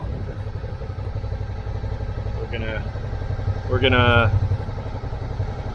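A motorcycle rumbles steadily along the streets of downtown Tijuana, its engine a constant close drone with a brief rise in revs, while someone talks over it and horn-like tones sound nearby.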